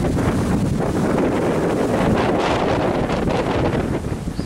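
Strong wind buffets the microphone in loud, continuous gusts, a rough roaring rush that drops slightly at the end.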